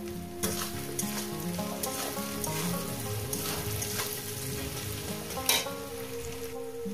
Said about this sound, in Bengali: কাঁচা লঙ্কাটা দিয়ে একটু ভেজে নেব